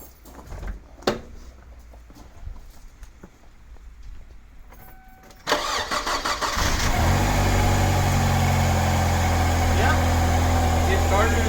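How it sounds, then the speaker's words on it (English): A 1999 Kia Sportage with an idle problem cranks briefly after a few clicks and knocks, then catches and settles into a steady, loud idle close by, with a voice speaking briefly over it. "I'm going to start it up and see how it starts and see if it starts well and idles well"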